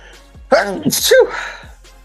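A single loud sneeze close by, a sharp two-part burst with no talking around it.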